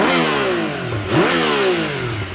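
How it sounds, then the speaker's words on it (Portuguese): A motorcycle with its original exhaust revs up close, a throaty engine note that climbs, dips briefly and climbs again in a loud, continuous burst. "vou dar uma aceleradinha aqui"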